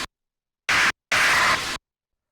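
Two bursts of harsh, fuzzy synth tone pushed through a distortion pedal, a short blast then a longer one, loud and alone with silence around them, in a hard melodic rave techno style.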